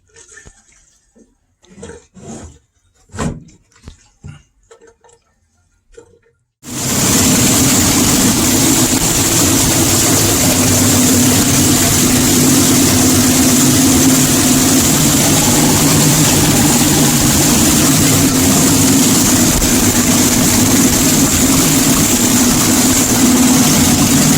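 A 1962 Mercury Comet engine starts and settles into a steady, loud idle running on its own fuel supply, a continuous low rumble that fills the rest of the clip after a few quiet moments.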